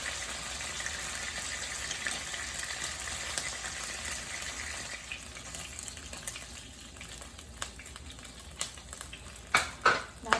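Pork steak frying in a pan gives a close, continuous sizzle and hiss, with sharp crackles and pops growing louder near the end; nobody speaks.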